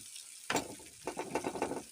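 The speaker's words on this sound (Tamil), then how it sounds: "இதை நல்லா சுற்றி விட்டு வதக்கிக்கலாம்." Onion and tomato being stirred and sautéed in hot oil with salt and asafoetida for tomato chutney: a faint sizzle broken by several close scraping stirs of a spoon in the pan, with no talking.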